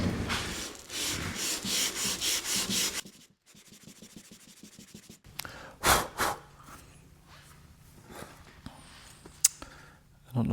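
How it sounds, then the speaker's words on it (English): Sanding the back of a wooden guitar headstock with 180-grit sandpaper: a few seconds of steady rhythmic rubbing strokes up close, then a pause, then scattered scuffs and knocks. "Just gonna put some 180 on this so I can sand the back of this headstock real quick."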